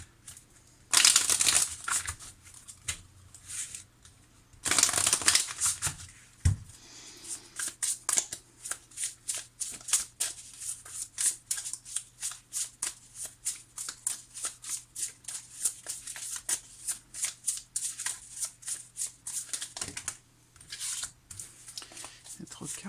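Tarot cards shuffled by hand in a rapid run of crisp riffling and slapping clicks, with two louder bursts early on, then steady flicking for the rest, close up and alone.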